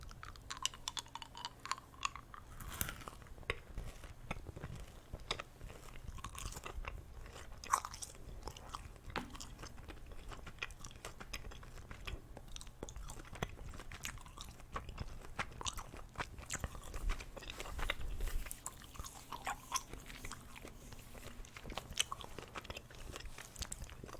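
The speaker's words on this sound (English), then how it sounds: "I think chewing gum is a nice additional background trigger." Tropical-flavour Extra Refreshers gum is chewed close to the microphone in an ASMR setting, making continuous soft wet crunches, smacks and clicks in an irregular rhythm with no talking.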